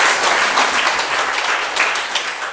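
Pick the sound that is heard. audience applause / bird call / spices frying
audience applause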